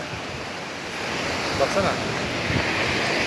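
Muradiye waterfall pours with a steady, full rushing roar close by, swelling slightly louder partway through, while a person briefly speaks over it.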